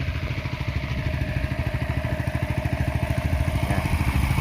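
In a village, a water pump engine chugs in a fast, even, close rhythm without a break, alone and fairly loud.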